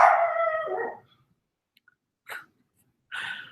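A dog barks and howls nearby, one long drawn-out howling bark followed by two shorter, sharper barks separated by silence.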